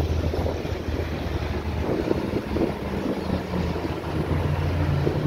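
A boat moving over the water in Barbados, with steady wind buffeting the microphone and a low continuous engine-like rumble and wash throughout, with no talk.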